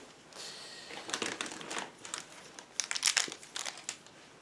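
A Match Attax Champions League 2021/22 card pack is handled and cut open, giving crisp crinkling foil and sharp snipping crackles in irregular bursts, close and fairly loud.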